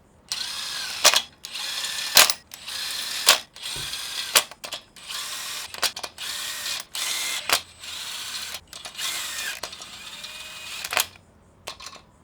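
Ratchet running down crankshaft bolts while installing the crank on a turbo BMW M54 engine build; repeated bursts of rapid clicking ratchet strokes, close and loud, separated by short pauses.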